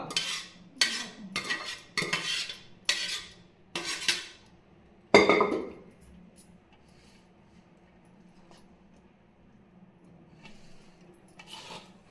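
Plates and cutlery clink and scrape during washing, a run of sharp close knocks and rattles with one louder clatter, then quieter faint rubbing and occasional taps.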